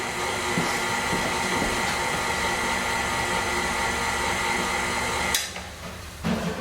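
A stand mixer whips cheesecake batter in a home kitchen, giving a steady, loud motor whir with a scraping rattle, then stopping briefly near the end before restarting.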